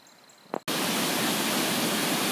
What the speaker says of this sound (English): So the creek is swelled up.